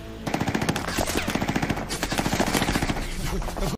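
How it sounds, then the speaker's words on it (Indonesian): Machine gun fire from the war film Black Crab rattles in a fast, unbroken stream of loud shots for several seconds, dense and close against a heavy battle rumble. "Granvik mulai menembak"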